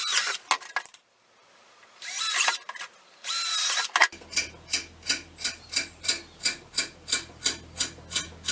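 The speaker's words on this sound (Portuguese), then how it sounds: "De seguida marquei e fiz os furos nas pás para depois as enfiar nas barras" Power drill boring holes in the blades of a homemade vertical-axis wind turbine, in three loud bursts, followed by a steady run of rhythmic clicking pulses under a low hum.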